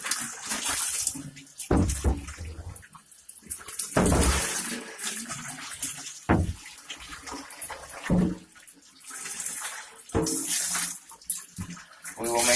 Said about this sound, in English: when we rinse it out now, and we will thoroughly rinse out the soap